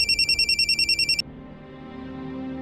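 A mobile phone rings with a rapid, bright electronic ringtone pulsing for about a second, then stops abruptly, leaving a low indoor hum.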